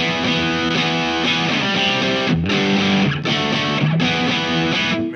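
A Telecaster electric guitar plays through the silver Visual Sound Jekyll & Hyde Ultimate Overdrive pedal, loud, thick distorted chords ringing continuously with a few brief breaks between strums and no voices.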